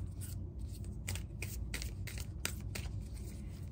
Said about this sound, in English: Let's try that shuffle again.